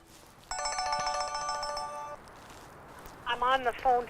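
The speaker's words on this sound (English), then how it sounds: "I'm on the phone to David" A cell phone's electronic ringtone chimes for under two seconds beside a remote lake, clear and close, then a person starts speaking.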